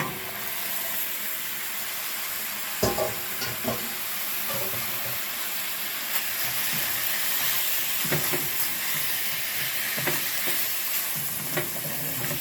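Strips of carrot, christophene and onion sautéing in butter with shrimp make a dense, steady sizzle with occasional stirring knocks, close and alone without speech.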